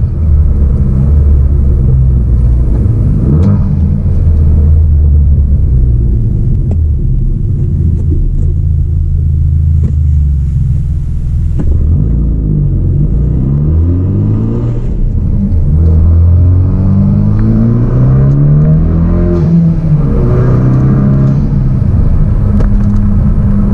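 Hyundai Veloster Turbo pulling hard in second gear: a loud, close interior engine drone that rises steadily in pitch, drops briefly, then climbs again under full acceleration, with no talk.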